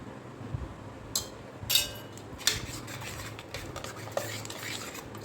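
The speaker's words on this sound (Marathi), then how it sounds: "आता हे सगळा मसाला तेल सुटेपर्यंत चांगला पाच सात मिनटं भाजून घ्यायचा" Spice masala is stirred and roasted in oil in a pan for a crab dish, with soft scraping and occasional clinks of a utensil against the metal, faint and close, with no talking.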